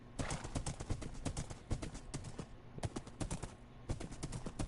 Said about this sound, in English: I have found my horse.